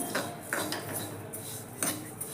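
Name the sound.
flaxseeds being dry-roasted in a hot kadhai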